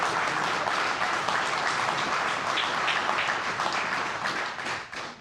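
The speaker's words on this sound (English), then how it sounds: "Please give a round of applause for our Scoutmasters and for our Eagle Scouts." An audience at a scouting district awards dinner applauds Scoutmasters and Eagle Scouts, a dense round of clapping in a room that stays full for several seconds, then thins and fades near the end.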